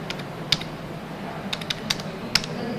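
Fingers tap out a ping command on a computer keyboard in a handful of light, separate keystroke clicks over a steady low room hum.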